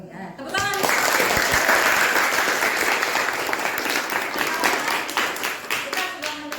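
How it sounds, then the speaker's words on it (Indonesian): A classroom of students applauds during a lesson on bacteria, dense clapping rising quickly and holding steady and loud for several seconds, with some voices mixed in. "Oh ya, tepuk tangan."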